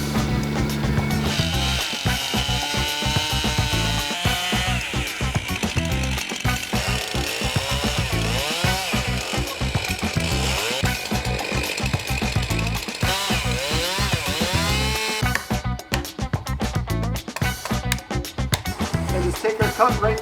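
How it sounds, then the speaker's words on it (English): Chainsaw pushed into a tree trunk, a steady loud buzzing drone running throughout with rising and falling pitch as the bar bites into the wood, close by and continuous, getting rougher near the end. "We come into that tree and then push the chainsaw right into it."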